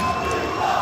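A large esports crowd at a CS2 tournament roars in reaction to in-game kills. The cheering and shouting is a dense, sustained wall of noise lasting under a second.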